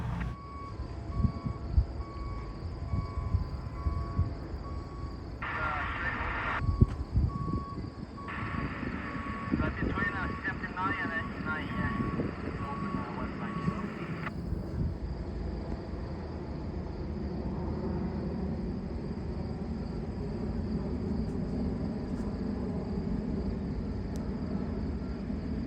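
A distant freight train led by a GEVO locomotive, with further GEVOs trailing second and as a mid-train DPU, rumbles past steadily while a warning bell or tone rings intermittently near the start and voices talk faintly.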